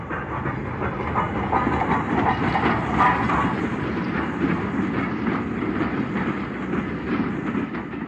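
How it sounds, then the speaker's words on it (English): An Austerity 2-8-0 steam locomotive passes a Scottish junction hauling a train of empty coal wagons, a steady loud rumble with rolling wagon clatter throughout, fairly close and continuous. "an austerity 280 passes the junction with coal empties for Kelty Yard"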